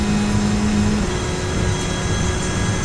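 A Manthey Porsche GT2 RS race car accelerating uphill from Bergwerk toward Klostertor on the Nürburgring Nordschleife, its engine a loud, steady, close roar that holds constant throughout without talk.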